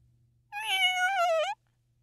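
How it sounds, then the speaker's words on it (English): A mother cat gives one clear, drawn-out meow of protest, close and loud, lasting about a second against near silence with a faint low hum beneath. ""Meow!" the mother cat protests."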